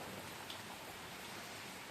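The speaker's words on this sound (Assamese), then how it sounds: "বৰষুণ নেৰাই হ'ল দেখোন" Steady rain falling during an outdoor Durga Puja gathering in Assam, a soft, even hiss that is faint and continuous, with no voices.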